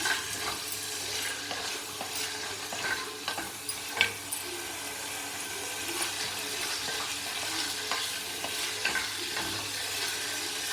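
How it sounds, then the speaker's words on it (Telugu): Peanuts roasting in a pan for coconut chutney, stirred with a spoon: a constant dry sizzle with scraping strokes and a few sharp clicks of utensil on metal, close and continuous. "వీటిలోకి కొంచెం వేరుశనగ గుళ్ళు వేస్తున్నాను. వేసి మూడు కలిపి వేయించుకోవాలి."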